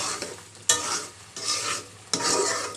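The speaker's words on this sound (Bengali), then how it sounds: "অনেকটা চিনি অ্যাড করে দেব দেড় চামচ দিয়ে নেড়ে দেবো" Egg curry with amra and a spoonful and a half of sugar is stirred in a pan, three distinct rasping scrape strokes over a low simmering hiss, close and fairly loud, no talk.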